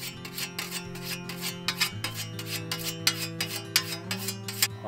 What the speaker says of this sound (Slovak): Rád kosím kosou